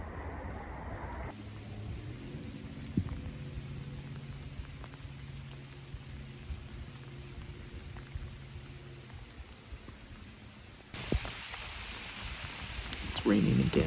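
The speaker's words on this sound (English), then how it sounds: "It's raining again." Steady rain patters down outdoors in Iowa during a deer hunt, with a low rumbling hum underneath and a brief burst of brighter splashing near the end.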